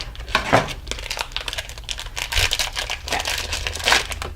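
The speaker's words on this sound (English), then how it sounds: "opening the cheese package is the worst" Plastic packaging around a block of Monterey Jack cheese crinkles and crackles loudly up close in irregular bursts, and a voice speaks one short word.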